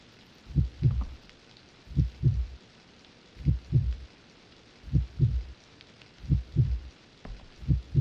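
An anatomy doll's heart pounds at a high pulse in the horror game White Day Remake. Six paired lub-dub thumps come at an even pace, deep and close, with no voices over them.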